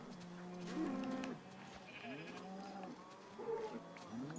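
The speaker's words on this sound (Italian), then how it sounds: "Si sono miste le mucche e non so quale stavo ammazzando" Cows in the Minecraft video game mooing, several drawn-out low moos overlapping one after another at moderate volume, with no talk over them.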